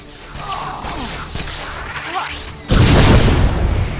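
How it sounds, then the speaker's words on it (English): A sudden loud explosion hits in Star Wars: The Old Republic, a deep broadband blast cutting in after a stretch of quieter game sounds and whooshes, then rumbling on to the end. "Who tried to explode me?"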